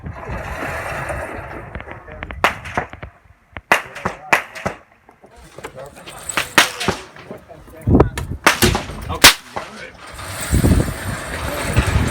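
Springfield Armory M1A rifles firing at a Camp Perry match, with sharp, loud cracks at irregular intervals, some in quick clusters, alongside people talking nearby and range background noise.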